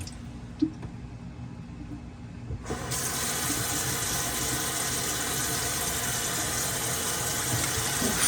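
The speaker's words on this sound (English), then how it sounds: "Fill this sink up a bit." A kitchen sink fills from a running tap during a test of an under-mount ejector pump setup and its basket strainer; after a short quiet start with a click, water gushes in loud and steady, rushing continuously to the end.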